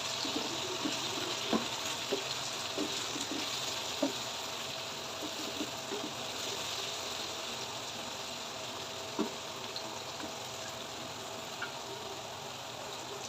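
Crushed chillies frying with potatoes in a pan for Aloo ki Bhujia give a steady, moderate sizzle with faint occasional clicks and scrapes of mixing, and no voices.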